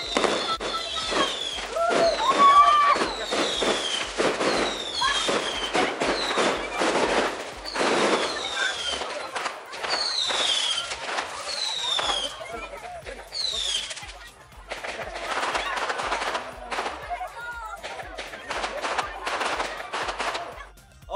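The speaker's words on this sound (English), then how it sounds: "We've got some fireworks as well." Fireworks at a wedding crackle and pop in rapid, machine-gun-like bursts, a dense continuous barrage of bangs and whistles going on for a long stretch with voices in the background.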